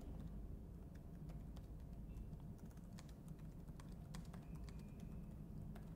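Quiet, steady typing on a computer keyboard while entering a caption in Tableau software, with rapid uneven key clicks running throughout and no voices.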